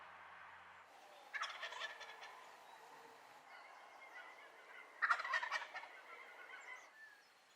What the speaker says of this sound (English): We got to watch it gobble